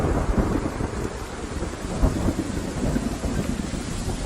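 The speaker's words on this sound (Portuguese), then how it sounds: "tempestades tropicais que parecem nunca ter fim" Tropical thunderstorm with heavy, steady rain and deep rolling thunder rumbling throughout, loud and close, with no voices.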